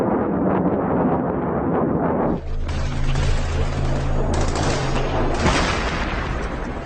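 Loud, dense machine-gun fire from a US AC-130 gunship strafing a mountain ridge roars continuously over a deep engine drone, with heavy rumbling bursts.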